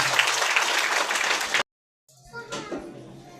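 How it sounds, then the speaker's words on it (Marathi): A congregation at a Christian prayer centre claps loudly in thanks, a dense, close burst of applause for about a second and a half that cuts off abruptly, followed by quieter scattered sound. "आपण जोरात टाळ्या वाजवून प्रभू येशूला धन्यवाद देऊया"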